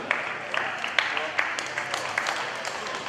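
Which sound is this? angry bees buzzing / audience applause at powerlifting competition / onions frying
audience applause at powerlifting competition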